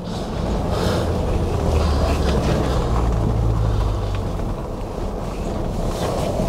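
A Ford Bronco with a 7-speed manual creeps along in crawler gear: a steady, low drivetrain rumble with constant wind buffeting the microphone, and no voices.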